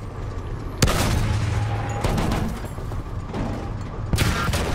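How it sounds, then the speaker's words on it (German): Heavy gunfire in Battlefield 1, a World War I shooter, with sharp shots and bursts layered over a steady roar of battle, loud and close, with sudden blasts near the start and end. "Ich schieße blind."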